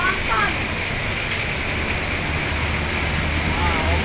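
Heavy rain pours down outdoors in Palembang while people wait for a new Halmahera bus, a steady loud hiss of falling water with faint voices underneath.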